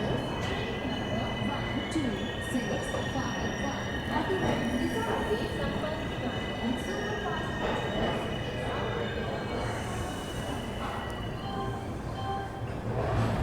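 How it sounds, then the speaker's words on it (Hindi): The Secunderabad Duronto Express pulls out of Balharshah railway station, a steady loud rumble of wheels and carriages with rhythmic clacking over rail joints, continuous and close throughout. "अपनी सिकंदराबाद दुरंतो निकल चुकी है बल्हारशाह रेलवे स्टेशन से।"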